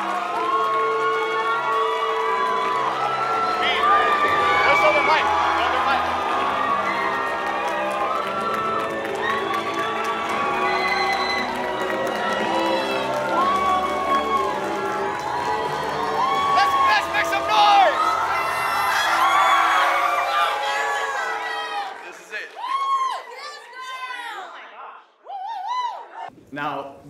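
A large crowd at a Marvel Multiverse of Madness fan event cheers, whoops and hollers continuously for about twenty seconds before the roar thins into scattered shouts and a voice.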